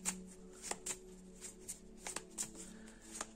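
Tarot cards are shuffled by hand in a quiet room, with repeated soft riffles and crisp clicks and snaps at an uneven rhythm, close and clear, with no talking.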